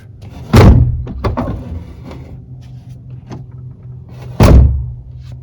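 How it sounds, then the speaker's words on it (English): A 2001 Ford Mustang Bullitt door is swung open and shut, giving two loud, sharp thunks with a softer scrape and clunk of the door rubbing the fender between them, all close by. "when you open the door, you can hear it rubbing the fender ever so slightly"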